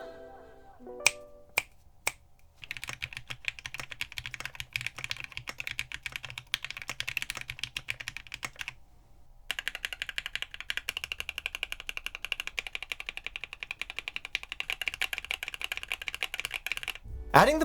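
A mechanical keyboard with both plate foam and case foam installed, typed on in a fast, steady stream of close, crisp clacks with a brief pause partway through and a few isolated key taps at the start.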